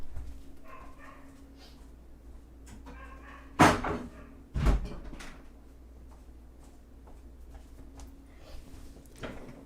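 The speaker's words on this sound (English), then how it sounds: "I'm going to close my door really quick" An indoor door being closed, two firm thuds a second apart, close and fairly loud, while a dog barks and whimpers in the background throughout.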